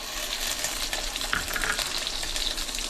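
Raw green mango fries in a pan with a spoonful of ginger paste for a Bengali sour lentil dish, giving a steady, close, loud sizzle with faint stirring scrapes throughout.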